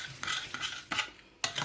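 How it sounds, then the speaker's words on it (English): Eggfood being mixed with broccoli in a bowl, heard as three or four distinct scraping, clinking stirs of a utensil against the dish at an uneven rhythm, close and clear, with no talking. "Just give that a little mix with the broccoli"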